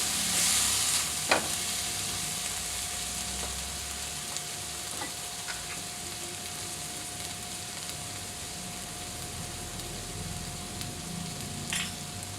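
Boiled meat with bone sautés in a pot for macaroni soup, a steady close sizzle with occasional clinks and scrapes of stirring running throughout.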